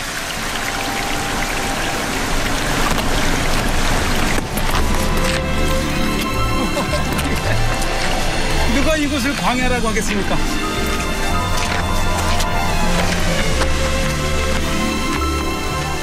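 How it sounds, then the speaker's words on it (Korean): Waterfall in the Ein Gedi desert gorge near the Dead Sea, a loud, dense, continuous rush of falling water with someone speaking over it. "시원하게 떨어지는 폭포수."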